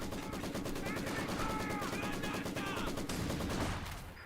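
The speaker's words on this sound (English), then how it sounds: "Machine gun ready." Sustained rapid gunfire from a Company of Heroes 2 battle, dense overlapping bursts of machine gun and rifle shots running continuously and loud throughout, with a voice briefly speaking partway through.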